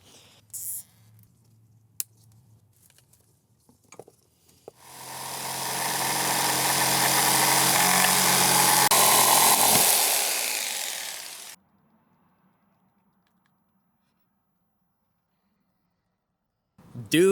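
A steady mechanical hum and whoosh of a running Vevor diesel heater in a van starts after a few quiet seconds, holds for several seconds, then cuts off, leaving near silence.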